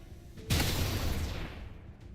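A single heavy blast of video game gunfire in Xcom40k Horus Heresy bursts in abruptly and decays over more than a second into a rumbling tail, alone and fairly close.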